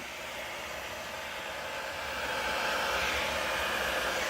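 A hair dryer blows steadily on wet acrylic pour paint, giving a continuous broadband whoosh that swells slightly louder partway through, with no talking.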